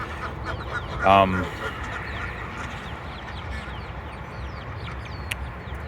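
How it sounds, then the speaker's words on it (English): Mixed sounds of geese, chickens and ducks in the background, with one brief loud goose honk standing out among scattered clucks and calls, ambient outdoor farm noise throughout. "So lots of geese, a few chickens, some ducks"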